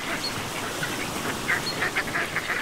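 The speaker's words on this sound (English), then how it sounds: "to drown out Dottie's quacking" A duck quacks in a storybook scene: a handful of short, nasal calls, sparse at first and then bunching together in the second half, faint over a soft background hiss.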